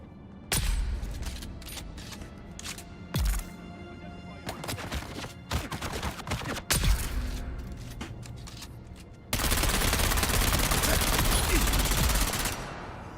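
Bursts of video game gunfire from a newly acquired gun: sharp repeated shots spaced irregularly across the span, then a dense sustained volley of rapid fire toward the end, fairly close and prominent.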